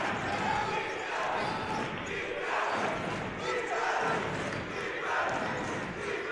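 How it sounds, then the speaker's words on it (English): A basketball crowd in a college gym cheering and clamoring in a loud continuous swell, with the roar surging and easing in waves and an announcer talking over it. "Crowd getting into it now."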